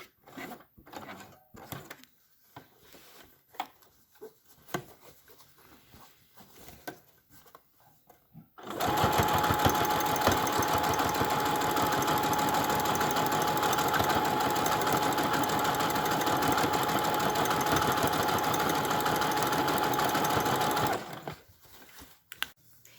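A sewing machine stitches the corner of a waterproof patio cushion, starting after some quiet handling clicks and running in a loud, steady whir for about twelve seconds before stopping abruptly.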